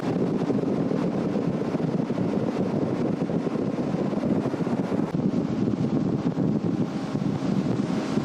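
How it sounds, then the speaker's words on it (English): Strong wind buffets the microphone outdoors by a lake while fishing in Louisiana, a loud continuous rushing roar with no breaks and no voices. "Try to get out of some of this wind."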